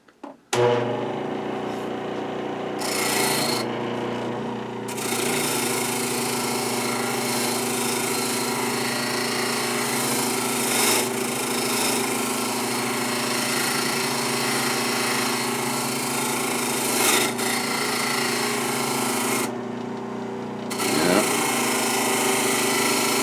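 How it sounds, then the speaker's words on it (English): A power tool spinning a nylon abrasive brush steadily as it strips surface rust from a small metal part, a loud continuous whine with a few short pauses and restarts. "abrasive brush, nylon with abrasive in it, and we're going to give it an initial hit with this"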